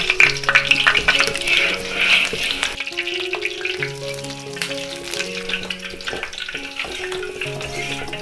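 A whole goose fries in hot peanut oil in a large wok, sizzling and crackling loudly up close while being turned, with scattered clinks of a utensil.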